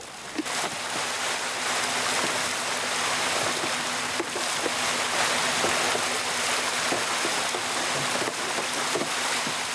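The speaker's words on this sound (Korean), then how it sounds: "먹이를 던지자마자 바닷물 표면까지 고등어들이 뛰어오른다." Continuous churning and splashing of water, dense and loud, as farmed mackerel leap and thrash at the surface of a sea pen at feeding, with a faint engine hum underneath.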